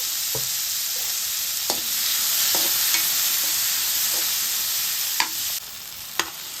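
Tomatoes and tamarind frying in half a spoon of oil in a kadai, with a continuous close sizzle broken by periodic sharp scrapes and taps of a spatula stirring the pan.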